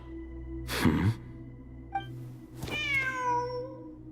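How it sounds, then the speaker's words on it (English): A cat in the video game Genshin Impact meows, with a breathy sound, a small blip, then one drawn-out, clear meow that fades, fairly close over a quiet background hum. "Wait, there it is! A cat!"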